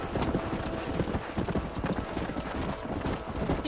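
Horse hooves clip-clop steadily and loudly in Red Dead Redemption as the horse is ridden, a dense, continuous drumming of hoofbeats filling the whole stretch with no talk.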